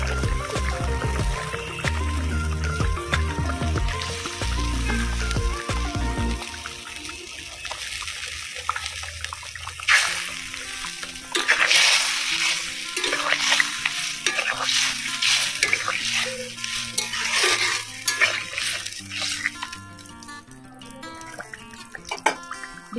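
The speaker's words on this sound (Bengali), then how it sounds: "ভেজে রাখা মাছগুলি এখন দিয়ে দিব তরকারিতে।" Fried katla fish pieces go into a simmering Bengali-style kalia curry, giving a steady wet sizzle with repeated scraping stirs and clinks of a spoon against the pan, fairly loud and close, with no talking.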